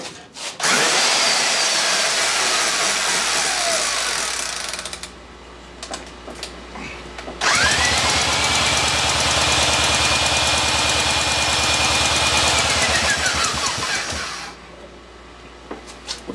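Milwaukee power tool spinning over a 1963 Evinrude 5.5 hp outboard engine: two long bursts of loud steady whirring and rapid mechanical chugging, the second winding up and running down at the end, with a quieter gap between.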